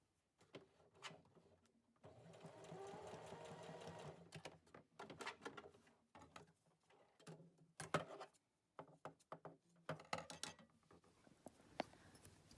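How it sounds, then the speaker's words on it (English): A sewing machine stay-stitches elastic onto face mask fabric in several close bursts, some long and some short, with whirring runs and mechanical clicks between quiet pauses. "I just stitch it, like just a little stay stitch"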